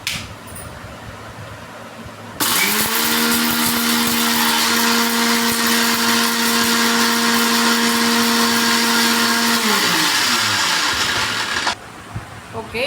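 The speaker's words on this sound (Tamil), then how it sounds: "கொரகொரப்பாக அரைச்சிக்கலாம்" A kitchen mixer grinder coarsely grinds rasam spices, starting abruptly with a loud steady whir that runs for about nine seconds, then winds down and cuts off, with quiet room sound before and after.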